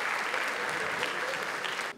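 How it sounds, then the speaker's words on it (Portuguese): Live audience at a Brazilian stage hypnosis show bursts into a solid roar of applause, dense and continuous for two seconds, then cutting off abruptly at the end. "Muito, uma salva de palmas!"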